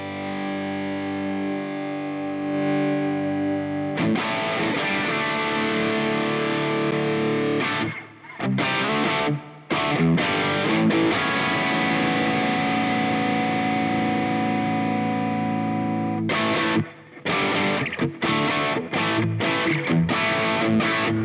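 Electric guitar through a NAM amp profile with an angled cabinet on a Valeton GP-200LT, heavily distorted sustained chords and chugging riffs with abrupt stops, loud and close with no talking.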